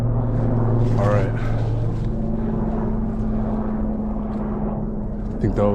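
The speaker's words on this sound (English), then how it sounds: "I think that was a helicopter or a plane or something up there." An aircraft, a helicopter or plane, passes overhead above woods at a campsite, giving a steady low droning hum that holds for the whole stretch with faint rustling beneath it.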